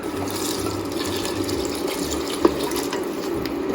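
Water is poured into a pot of lentils and rice for a soft khichdi, making a steady, close rushing splash that runs for several seconds with one brief clink partway through and no voices.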